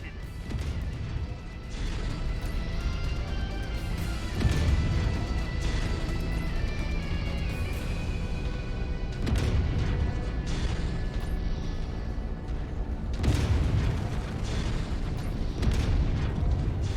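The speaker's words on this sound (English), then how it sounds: "A fuel tank just detonated." Fuel tank detonating in the mech combat game Mechwarrior 5, dense loud crashes and booms over a continuous roar of battle, with heavy impacts recurring through the whole stretch.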